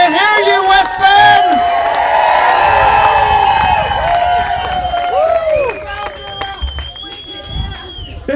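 A crowd in West Bend cheers, shouts and claps loudly, the roar peaking early then easing as scattered voices and applause continue.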